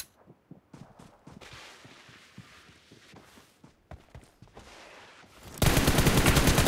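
Gunfire in PUBG Team Deathmatch on The Ruins map, scattered shots and footstep-like thuds at moderate level, then a loud sustained burst of rapid automatic fire at the end.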